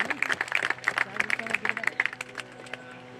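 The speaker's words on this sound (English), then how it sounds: "let's give a round of applause for Mom" A round of applause for Mom at an Eagle Scout court of honor, scattered uneven clapping from a small gathering that thins out and stops after a couple of seconds.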